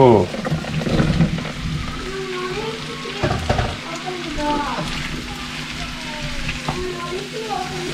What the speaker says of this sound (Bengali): আমি এখন ফুলকপি আলু আর গাজর রান্না করছি।